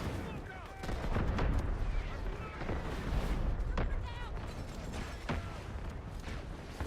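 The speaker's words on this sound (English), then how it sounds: "Someone called in an artillery barrage." An artillery barrage in a PC video game sends repeated heavy explosions and booming blasts across a loud, continuous rumbling battlefield, with several sharp impacts standing out.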